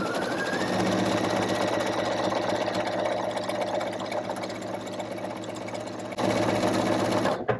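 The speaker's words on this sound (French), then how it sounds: "Et puis je viens faire mon petit zigzag tout autour." A sewing machine runs a zigzag stitch around pyjama fabric and elastic, a steady close mechanical whirring and rapid needle clatter that continues throughout, with a brief change near the end.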